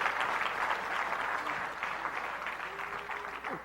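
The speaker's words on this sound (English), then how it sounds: "Clap right, that's a good place to clap." Audience applause at a motivational sermon, a steady wash of many hands clapping at a distance with crowd murmur mixed in, holding evenly for several seconds.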